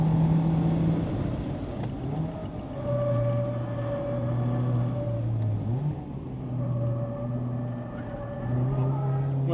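A Mazda Roadster ND5RE on the Nikko Circuit drones loudly from inside the cabin, engine pitch dipping and then climbing as it accelerates, with a voice talking over it.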